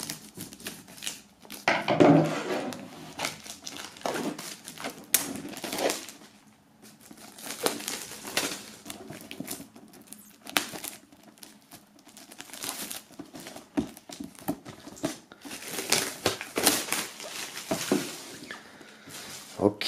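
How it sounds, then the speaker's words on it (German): Plastic film is peeled and torn off a Cro box set, with close crinkling, crackling and rustling in bursts and pauses, occasional sharper rips and handling noises, and no speech. "Wir werden das Ganze mal aus der Folie befreien"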